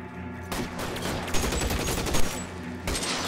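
Gunfire in a video game shootout, a dense burst of rapid shots lasting about two seconds, loud and close, with a few sharper cracks standing out.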